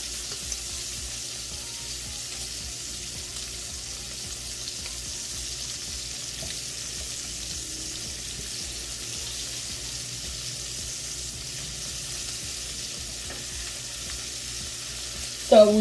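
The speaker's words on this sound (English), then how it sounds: "So we're going to flip them over and do the other side the same way." Sausages sizzle steadily in a frying pan for the whole stretch, a constant close crackle that carries on as they are turned. A sharp clatter comes right at the end.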